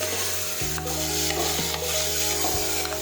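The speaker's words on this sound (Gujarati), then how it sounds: "હવે આપણે સમારેલા ટમેટા નાખી દઈશું એને પણ આપણે સાતળી દઈશું" Chopped tomatoes sautéing in a pan while cooking lili choli shak, a steady close sizzle and frying hiss with occasional stirring scrapes and clinks.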